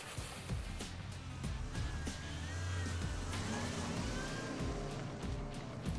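A car pulls away and drives off at low speed, its steady engine and road rumble continuous throughout with no talking.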